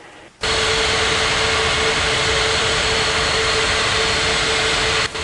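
Jet airliner taking off in the Unmatched Air Traffic Control video game: a loud, steady engine roar with a thin sustained whine kicks in abruptly and holds evenly to the end, with no voices.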